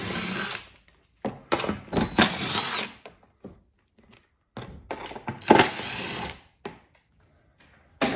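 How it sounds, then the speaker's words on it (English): Ten millimetre bolts come off the inverter shield of a 2023-2025 Toyota Prius hybrid, heard as intermittent short whirs from a powered tool with quiet gaps and handling clicks between bursts. "And now you have four 10 millimeter head bolts"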